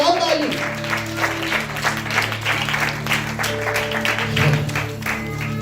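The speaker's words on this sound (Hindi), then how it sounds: "अगर कहानी पसंद आई तो फिर बजाओ ताली" Children at a Bible story camp clap together indoors, a steady burst of applause with overlapping voices and a sustained tone underneath.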